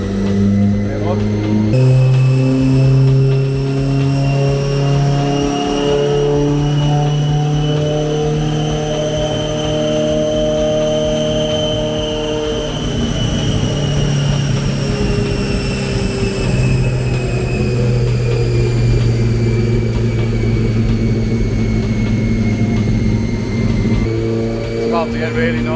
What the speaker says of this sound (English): There's a Suzuki Hayabusa on the dyno. It's a drag bike, nitrous.